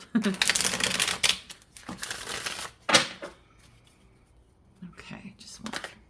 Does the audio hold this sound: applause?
no